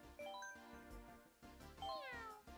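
Cartoonish cat meows from Mario Kart 8 Deluxe gameplay, a couple of rising and falling calls over game music and racing sounds, fairly close and clear.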